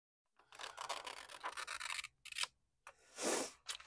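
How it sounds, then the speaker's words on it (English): Scissors snip and rasp through a thin acetate sheet up close and quietly, a run of scraping cuts followed by a few short separate snips with brief pauses between them, no voices heard. "So I just used my scissors and free-handed it"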